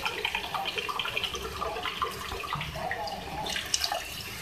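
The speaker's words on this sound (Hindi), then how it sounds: "अब भूनने के बाद मैं इसमें जो है 1 कप पानी ऐड करूँगी ताकि ये गल जाए" One cup of water is poured into a pan of browned chicken and potatoes, a continuous splashing gurgle at moderate level lasting several seconds with a faint background hum.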